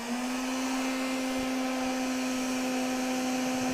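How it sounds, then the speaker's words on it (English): A heat gun running steadily at close range to warm the end of a PVC pipe, giving a constant whooshing fan drone with a strong, steady hum and no pauses. "I'm going to turn the heat gun on here and show you how to do this."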